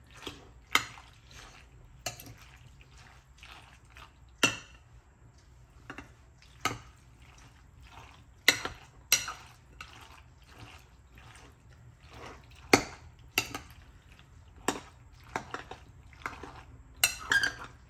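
Macaroni salad is stirred in a bowl that will also go into the fridge, giving repeated sharp clinks and scrapes of a utensil against the bowl in an uneven rhythm, close and fairly quiet, with no talking.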